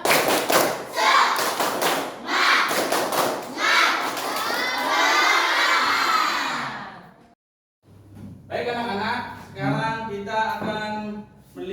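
Schoolchildren in an Indonesian classroom perform a rhythmic spirit clap chant, with loud shouted voices and steady claps, a brief pause, then another burst of chanting and clapping.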